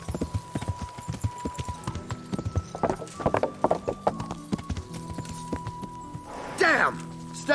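Horse hooves clip-clop in a rhythmic series of sharp, close strikes in the medieval game Kingdom Come Deliverance, with a horse whinny near the end over a faint background tone.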